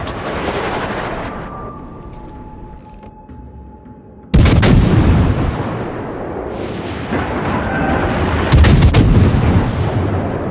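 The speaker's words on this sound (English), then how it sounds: "All stations, concentrate fire on that target." Warship main batteries firing in World of Warships, the cruiser Worcester's guns booming in two loud, heavy salvos with rumbling tails over a continuous background of naval combat noise.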